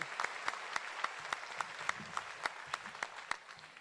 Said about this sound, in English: Can we give Dr. Watts a round of applause